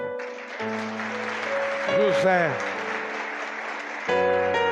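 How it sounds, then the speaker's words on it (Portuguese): A church congregation at a celebration service breaks into a steady wash of clapping that runs through most of the stretch, mixed with sustained music and a voice rising over it. "Dê uma salva de palmas para ele."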